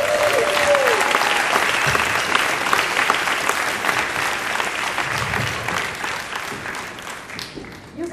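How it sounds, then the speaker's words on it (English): Sustained, loud audience applause fills the space, many hands clapping steadily with a brief tone at the start, fading slightly toward the end. "So let's give a round of applause"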